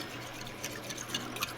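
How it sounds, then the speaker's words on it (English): A dishwasher runs in a home kitchen, giving off faint, steady water sloshing and light dripping at a low, even level with no voices. "Sorry for that dishwasher noise."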